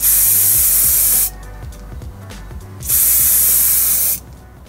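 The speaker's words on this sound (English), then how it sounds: "Keep your fixative spray straight as you're spraying." Two long bursts of fixative spray from an aerosol can hiss loudly and closely over a drawing, each lasting over a second with a short pause between them.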